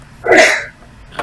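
A single sharp human sneeze, close and loud, bursting out alone in a quiet room during an online meeting.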